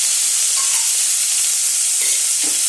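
Tomatoes for idli kurma sauté in a pan, a steady loud hissing sizzle with a couple of faint spoon or pan knocks near the end and no talking.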